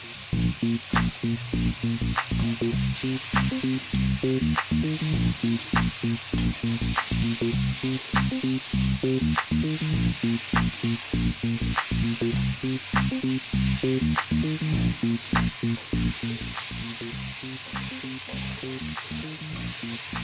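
Mushrooms frying in a pan with tomato and onion for a mushroom curry give a steady, close sizzle with regular rhythmic stirring taps throughout, and no voices.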